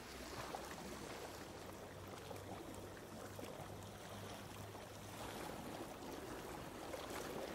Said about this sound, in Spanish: El sonido del mar borraba todo ruido de la carretera.